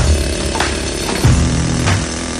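A rock drill bores through rocks on a farm, giving a loud, steady, continuous grinding roar with a few harder knocks, close up.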